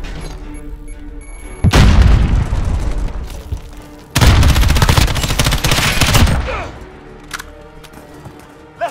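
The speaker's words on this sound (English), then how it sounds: "Enemy cruise missile incoming," Cruise missile strikes in Call of Duty Modern Warfare headquarters multiplayer on PS4: two heavy, loud blast bursts with rumbling debris and crackling gunfire, separated by a brief lull and trailing off into distant fire.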